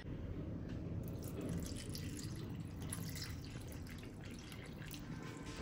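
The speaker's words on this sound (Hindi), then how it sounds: "अब इसके अंदर मैं थोड़ा सा पानी डाल दूंगी" Water from a tap pours steadily into a kitchen container, a continuous close splashing trickle with brief drips, heard alone without voices.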